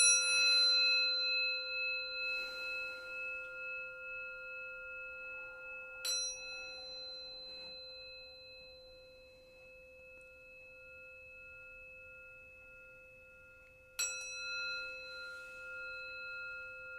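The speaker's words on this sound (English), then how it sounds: "I'll ring the bell just to remind us to ground us" A meditation bell is struck twice, several seconds apart, in a quiet session of deep breathing. Each clear metallic strike rings out in long, pure, sustained tones that fade slowly through near silence.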